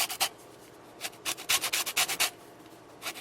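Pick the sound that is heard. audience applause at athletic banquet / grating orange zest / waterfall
grating orange zest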